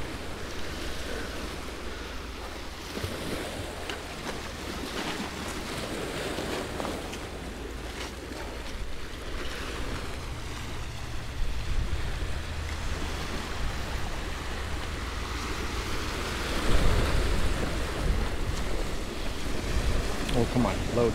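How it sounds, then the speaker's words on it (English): Sea breeze and ocean waves washing onto a beach at high tide, a continuous wash of surf with wind buffeting the microphone and occasional swells, with some talk. "There's that sea breeze I've been missing."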